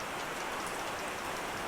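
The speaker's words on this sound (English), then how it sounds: "If you can hear a bit of rain outside, it's because it is raining." Steady rain falls outside a shed housing a private classic car and van collection, a continuous soft hiss of drops on surfaces with no voices over it.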